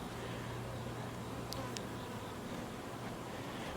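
A colony of honey bees buzzes steadily and closely in the hive, a dense, continuous drone with a couple of brief higher insect whines and no talk.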